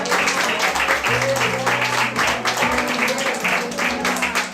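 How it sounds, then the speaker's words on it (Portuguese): A church congregation claps during a service, steady dense applause over a sustained low organ or keyboard tone, fairly loud and continuous throughout. "Uma salva de palmas."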